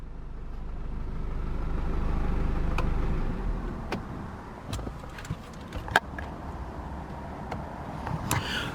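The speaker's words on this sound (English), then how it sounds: "Let's go ahead and shut her down." A 2018 Mercedes-Benz E220d AMG Line diesel engine idling with a low rumble that fades away after about three seconds, followed by quiet ticks and scattered small clicks.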